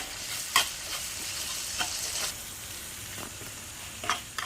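Potato pasta with Maggi masala, soy sauce and sugar is stirred in a frying pan, a soft continuous sizzle broken by a few sharp scrapes and clacks of the spatula against the pan, close and alone.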